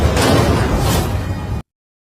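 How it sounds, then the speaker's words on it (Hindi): Cannon shells explode into the sea in an adventure action movie, heard as one loud, booming, rushing blast with a deep low rumble that cuts off abruptly after about a second and a half. "तोप के गोले एक के बाद एक समुद्र में गिरने लगे।"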